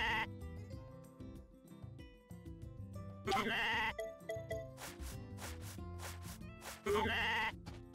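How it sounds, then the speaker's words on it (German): Sheep bleating in the Switch farming game Story of Seasons: A Wonderful Life, two loud bleats about four seconds apart over cheerful background music and tinkling game effects. "Das Schaf ist wach."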